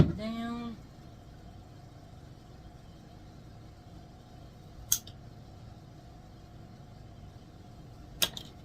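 Scissors snip flower stems for a late-summer headstone saddle arrangement, giving two sharp, isolated cuts several seconds apart against a quiet room hum, after a brief unrelated sound at the start.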